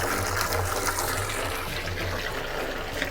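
Water runs from a tap during sampling, a steady loud gushing rush with a low hum beneath it, continuous and unbroken with no talk.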